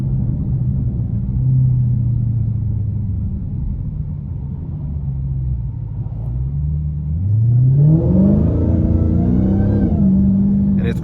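A 2023 Dodge Challenger SRT Redeye WideBody with a supercharged 6.2-litre V8 rumbles steadily from inside the car, then surges loudly as it accelerates hard, pitch climbing near the end.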